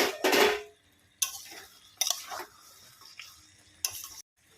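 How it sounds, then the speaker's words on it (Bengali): Chicken curry being stirred in a pot produces four separate bursts of spoon scraping and clinking against the metal, with quiet gaps between them. It is close and sounds alone, with no talking. "একটু নেড়ে দিচ্ছি।"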